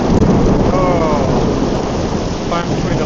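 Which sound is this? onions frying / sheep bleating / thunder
thunder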